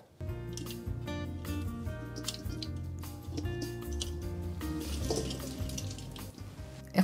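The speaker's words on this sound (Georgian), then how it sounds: "სულ ცოტა წყალს მაინც ჩავასხავ ახლა ქვაბში." Water is poured into a cooking pot while making pelamushi from real grape juice, a steady splashing flow lasting several seconds, close and fairly quiet.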